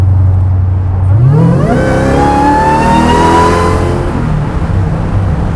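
A 900-horsepower Hellcat-powered 1970 Plymouth Superbird restomod pulls hard, its engine note rising steadily from a low idle to a loud, high rev before easing, close and alone.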